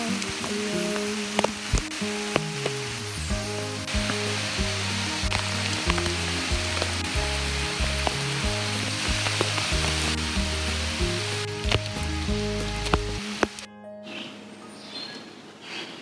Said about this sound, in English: Letting the rain in here.